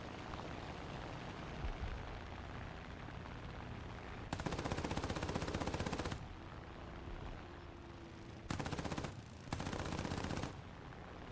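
Aircraft machine guns firing in the combat flight game War Thunder: three rapid, loud bursts, the first about two seconds long and two shorter ones close together, over a steady engine drone.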